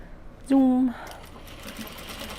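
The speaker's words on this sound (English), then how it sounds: "Backstitch over the ends here because they will get the most stress" A sewing machine runs in one short, loud burst while backstitching over the ends of Japanese fabric on a small sling bag. A quieter background continues afterward.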